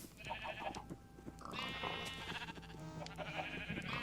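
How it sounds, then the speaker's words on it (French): Sheep bleat on a Minecraft farm that also keeps pigs and multicoloured sheep. Several wavering bleats overlap one another, some clear and close, over a busy background of game sounds. "j'ai mes cochons, mes moutons de différentes couleurs"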